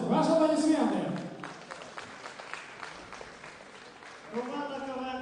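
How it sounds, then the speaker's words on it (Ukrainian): A theater audience at a KVN comedy tournament breaks into applause, a brief burst of clapping that fades between spoken announcements from a host. "Ваші аплодисменти."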